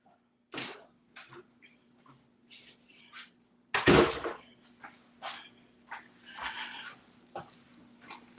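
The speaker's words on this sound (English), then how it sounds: "I didn't know you were gonna get your dog." A dog makes short bursts of snuffling, whimpering and breathy huffs, close by, with gaps between them and no talking.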